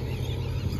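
Geese or similar waterfowl honking near a shoreline trail at high tide in Alameda, a steady low chorus of calls close by with no talking.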